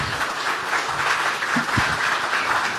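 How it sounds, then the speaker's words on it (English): Applause from a conference audience at an investment forum in Yokohama, Japan, dense steady clapping filling the room, with a couple of low thumps partway through. "Round of applause, please."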